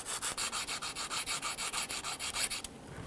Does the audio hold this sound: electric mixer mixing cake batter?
no